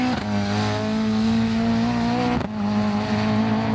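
Rally car at the start of stage 4 of a 2025 rally event, engine loudly revving and accelerating away close by, a strong steady roar with a brief dip at a gear change before climbing again.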